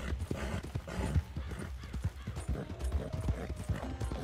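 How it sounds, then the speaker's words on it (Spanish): A horse gallops with rapid, rhythmic hoofbeats in the video game Red Dead Online during a race. The clip-clop is loud and close and runs throughout, with faint game ambience underneath. "Salta, salta, caballito."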